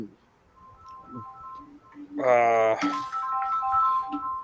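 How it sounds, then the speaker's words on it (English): A phone rings with an incoming call, a bright warbling ring tone rising over faint background tones, while people talk nearby. "got a phone call"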